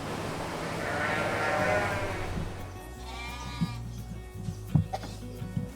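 Several sheep bleat in a wavering chorus inside a barn on a sheep farm, one loud call and then another further off, with scattered knocks and shuffling in an enclosed space.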